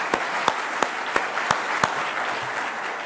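Applause from an audience at the 69th EAAP Annual Meeting welcome ceremony in Dubrovnik, a continuous wash of clapping with a few regular louder claps standing out.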